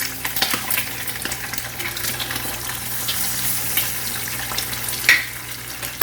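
Two eggs scrambling in hot oil in a pan, a steady close sizzle with light spatula scrapes and a sharp clink near the end, no talking.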